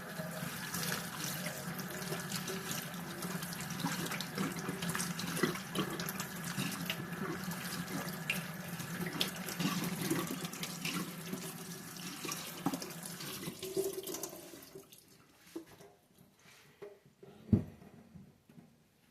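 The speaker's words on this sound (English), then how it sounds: "And we will wash the strawberries." Strawberries being rinsed under a running kitchen tap, a steady broad rush of water splashing into a sink that carries on for about fourteen seconds, then stops, leaving faint drips, handling noises and one sharp knock near the end.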